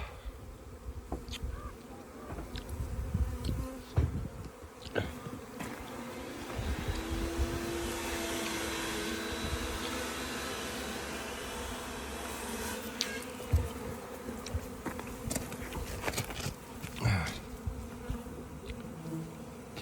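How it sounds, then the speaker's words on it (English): A swarm of bees buzzes continuously at close range, a dense droning hum with louder passes as individual insects fly near. No voices are heard. "at least these bees will now come over here."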